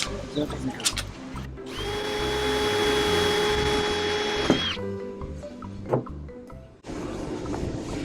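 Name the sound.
power drill drilling into fiberglass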